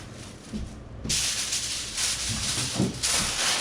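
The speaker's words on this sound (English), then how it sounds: "Cover with plastic wrap" Plastic wrap pulled and stretched over a tray of salted beets in a kitchen, a soft crinkling hiss that swells in a few close bursts with small handling thumps.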